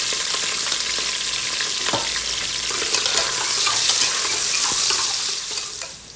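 Garlic sizzles loudly in hot oil at the start of cooking native chicken tinola, a dense crackling hiss broken by sharp pops and stirring scrapes, then fading slightly at the end.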